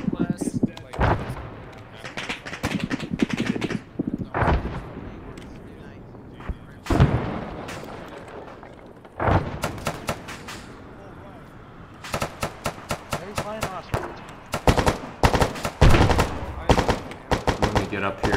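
Heavy bursts of rapid gunfire and sharp blasts from a rocket launcher fill a firefight in the ARMA 3 Halo mod, loud and intermittent, with someone talking between volleys.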